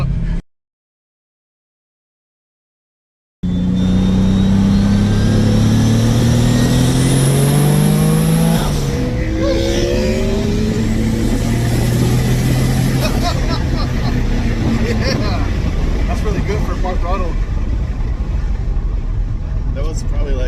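A 1992 Dodge Stealth fitted with a single XR10569S turbo accelerates hard, its engine note climbing through several rising pulls after a brief silent gap at the start, loud and close from inside the car while people talk.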